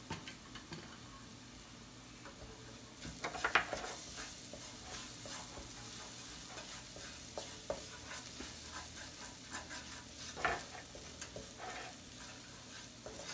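Garlic softening with a pinch of pink Himalayan salt in a pan: a faint, continuous low sizzle with occasional soft utensil scrapes and taps, heard alone.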